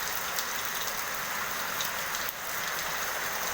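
Steady rain falls in a dense, even hiss on surfaces, continuous and moderately close, with no voices.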